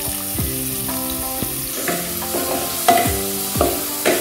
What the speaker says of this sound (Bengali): এখন আমি সবজিগুলো আগে ছেড়ে দিচ্ছি।